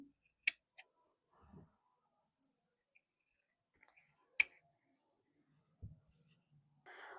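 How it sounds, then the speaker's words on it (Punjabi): Scissors snipping lined suit fabric, a few sparse, quiet cuts and clicks spaced out over a near-silent background. "ਇਹ ਤੇ ਆਪਾਂ ਕੱਟ ਲਗਾ ਲੈਣੇ ਨੇ"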